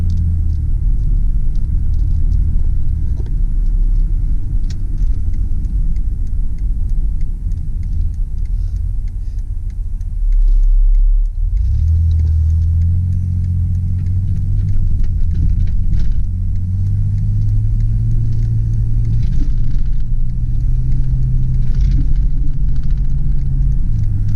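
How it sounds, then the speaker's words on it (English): A 2001 Dodge Grand Caravan handicap conversion van drives with a low, steady road and engine rumble heard from inside, then its engine note rises and holds higher as it accelerates, continuous and fairly loud. "Very good acceleration, no problems getting up to speeds."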